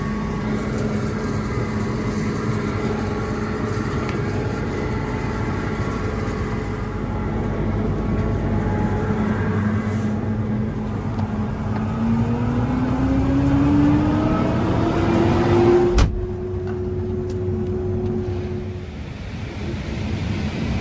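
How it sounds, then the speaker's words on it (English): Inside the cab of a Case IH AF10 Axial-Flow combine harvesting corn with a 40-foot Case IH C516 corn head, a loud steady machine roar and whine, with a tone rising near the end before a brief drop. "I'm in the cab of the Case IH AF10 Axial-Flow Combine. It's harvesting 40 feet of corn with the new Case IH C516 corn head"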